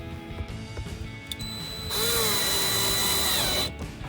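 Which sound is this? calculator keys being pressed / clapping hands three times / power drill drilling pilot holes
power drill drilling pilot holes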